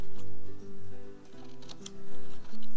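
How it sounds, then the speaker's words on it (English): Scissors snip through paper insert pages for a handmade memory book in a few short, separate cuts, heard softly under steady background music. "we're going to take our scissors and we're just going to complete these"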